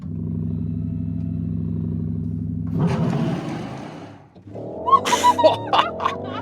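A 2026 Porsche Cayenne Turbo rumbles at a steady idle, then accelerates hard with a loud rising engine roar that surges and fades, followed by sharper high-revving bursts and rushing noise close by.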